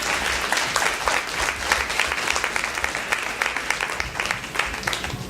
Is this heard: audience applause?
yes